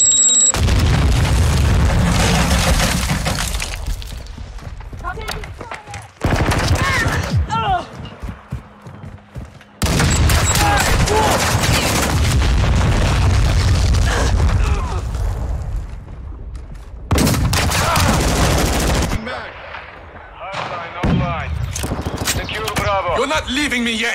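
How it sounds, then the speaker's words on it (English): Semtex grenade explosions boom through a Call of Duty MW II multiplayer match, heavy blasts and gunfire bursts rolling in loud repeated waves, with short lulls between them and radio-style callouts spoken over the action. "Throwing Semtex."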